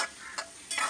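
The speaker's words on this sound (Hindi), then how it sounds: "पूरी कटी हुई प्याज डाल चुके हैं और थोड़ा सा फ्राई करने के गोल्डन ब्राउन होने तक इसको फ्राई करेंगे।" Chopped onions frying in a mix of ghee and oil give a close hiss that swells in short bursts as they are stirred, in a brief stretch with no speech.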